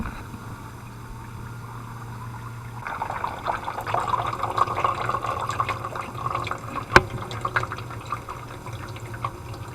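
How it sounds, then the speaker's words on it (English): Water pours and trickles steadily into a 45 gallon drum from a koi pond filter outlet, the splashing filling rising after a quieter start, with a single sharp knock partway through. "And I can fill that 45 gallon drum."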